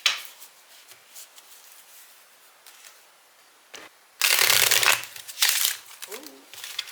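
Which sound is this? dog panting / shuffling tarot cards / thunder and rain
shuffling tarot cards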